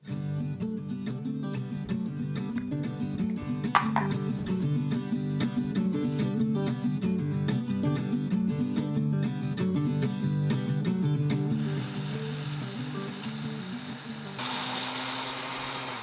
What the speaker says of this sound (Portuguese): é hora de batê-la no liquidificador até a gente conseguir uma farinha bem fininha